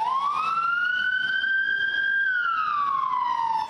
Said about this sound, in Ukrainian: Від школи номер 3 одна за одною від'їжджають швидкі.